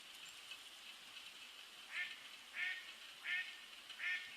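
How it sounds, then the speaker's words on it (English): A Cooper's hawk near a wildlife pond gives four sharp, evenly spaced calls about half a second apart. They are moderately distant over a quiet, faintly hissing background. "And here's a clip of Cooper's hawk."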